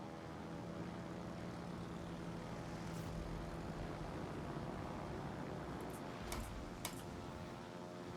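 Carrier aircraft in a World of Warships naval battle produce a faint, steady propeller drone, with a few brief clicks and ticks near the end.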